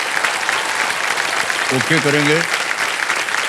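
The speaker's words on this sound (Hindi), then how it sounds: "ताली बज जाए इनके लिए" A studio audience at a television quiz show applauds in a steady, dense wash of clapping, with someone speaking briefly over it.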